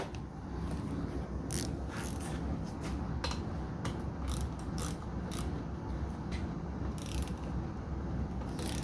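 Ratchet with a 17 mm socket turning the rear axle pinch bolt on a 1977 Moto Guzzi V1000 I-Convert, a series of sharp clicking strokes in uneven bursts over a steady background hum.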